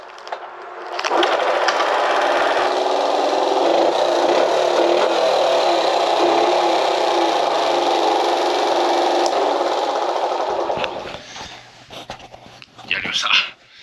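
A small Honda Cub motorcycle engine with a holed muffler runs steadily with a loud, raspy, buzzing exhaust, then cuts out near the end, leaving a few clatters.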